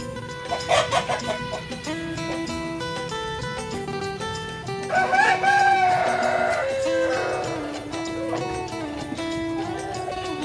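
Cross-bred layer hens, a Light Sussex and Barred Plymouth Rock mix, cluck and call in a coop, repeated nearby bursts of clucking with one longer drawn-out cackle in the middle, fairly clear over low background noise.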